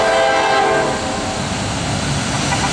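Norfolk Southern freight train passing close by at Mableton, led by a CW44-9 and two SD70ACe locomotives, with a loud, sustained diesel rumble and a horn tone that fades after the first second.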